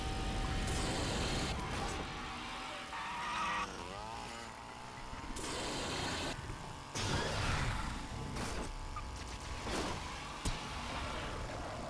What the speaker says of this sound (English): Here comes the chainsaw buggy.